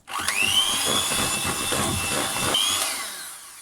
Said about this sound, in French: je vais venir mixer au batteur rapidement